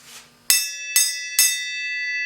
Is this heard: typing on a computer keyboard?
no